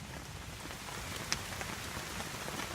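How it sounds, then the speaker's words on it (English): Heavy rain falls at night on a campsite, a dense steady patter with a few sharper drops striking close by, and no one speaking. "Still raining like crazy."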